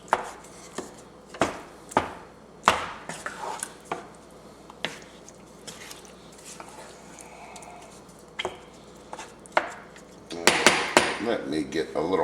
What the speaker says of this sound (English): we're going to start breaking up our tomatoes